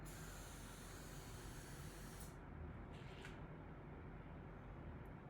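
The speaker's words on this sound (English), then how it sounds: "we're gonna spray this into here" An aerosol spray can hisses while paint is splattered for art indoors, a steady broad hiss for about two seconds, then a short burst, then a faint quiet tail.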